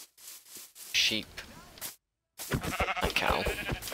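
A Minecraft sheep lets out a short bleat, loud and close, sandwiched between bursts of someone talking over game sounds, with a brief dead gap partway through.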